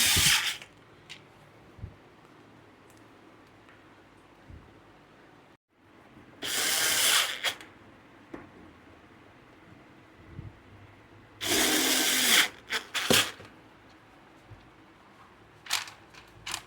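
Plastic screws are driven in with a power driver in two short, loud whirring bursts, set apart by long quiet stretches with a few faint clicks and knocks.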